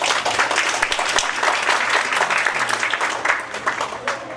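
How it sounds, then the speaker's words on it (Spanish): An audience applauds at a Spanish-language book presentation on social work, a dense sustained clapping that fills the room and tapers slightly toward the end. "para que les pida un aplauso, por favor."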